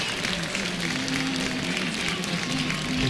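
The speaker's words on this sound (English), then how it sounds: "the crowd gives a nice standing ovation for those that have just come in" A crowd at a high school girls' basketball game gives a standing ovation, with dense, steady applause that swells slightly toward the end.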